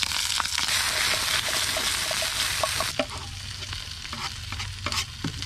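Brussels sprouts frying in a pan at a solo beach campsite, a loud continuous sizzle with stirring and occasional clinks and scrapes close by, no talk.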